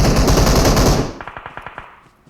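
Rapid automatic gunfire in the mobile battle royale game PUBG Mobile: a dense, loud burst of shots, then a string of separate, fading single shots spaced out in a steady rhythm.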